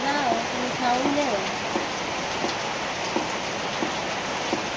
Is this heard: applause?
no